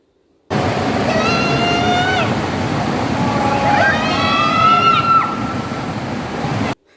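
Water flows steadily at a scenic bathing spot, a continuous close rushing wash lasting several seconds, with a few faint voices rising and falling over it.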